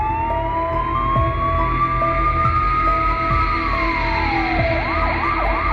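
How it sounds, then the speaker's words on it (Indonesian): A police siren wails loudly and steadily, its pitch sliding up and down in a continuous cycle with a brief faster yelp toward the end, close and alone without any talk. "Tiba-tiba ada suara sirine polisi"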